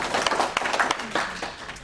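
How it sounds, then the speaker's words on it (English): Brief applause for a studio guest, a short burst of scattered clapping from a small group, fairly close and fading over under two seconds. "Let's have a hearty round of applause for our esteemed guest, Brenda Nider."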